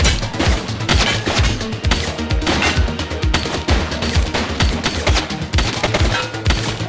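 Sustained gunfire from a shooter in the police game The Precinct, a rapid, relentless stream of loud close shots firing in quick rhythmic bursts with barely any pause.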